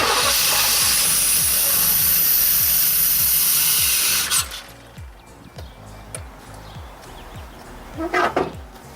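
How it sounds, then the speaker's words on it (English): A 1989 Formula car engine starting after sitting for three years, idling with loud, rhythmic pulsing under hissing noise for about four seconds, then cutting off to quieter clinks and faint knocks. "Fired right up, guys. It's been sitting here for 3 years."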